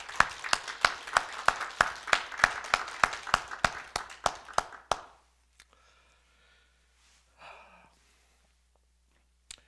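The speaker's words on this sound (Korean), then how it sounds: "우리 하나님께 박수 한번 돌려드리죠" A church congregation claps together in praise during a Korean sermon, a loud, evenly timed rhythmic clap of about a dozen beats that stops abruptly, leaving near silence broken by a faint rustle and a soft distant sound.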